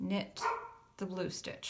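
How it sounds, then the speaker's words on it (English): A dog barks several short, sharp times at moderate distance indoors during a knitting session, overlapping someone's steady spoken instructions. "Sorry for the dog barking."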